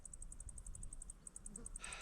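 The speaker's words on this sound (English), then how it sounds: "don't know if you can hear the crickets" Crickets chirping in the Cyprus countryside, a steady rapid series of high pulses repeating evenly throughout, faint and distant over low outdoor rumble, with a brief scuffing noise near the end.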